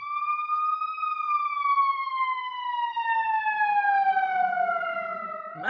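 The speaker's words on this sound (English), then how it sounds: "Sorry, I'm going to let this siren pass." An emergency vehicle siren passes outside, one loud, sustained wailing tone that slowly falls in pitch as it goes by, heard alone with no talk.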